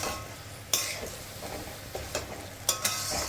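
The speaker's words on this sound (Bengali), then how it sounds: "সবজি কিছুক্ষণ ভাজা ভাজা হয়ে গেলে" Vegetables, rice and lentils with salt and turmeric fry in a pan for khichuri, stirred with a few sharp scrapes and clinks over a quiet background sizzle.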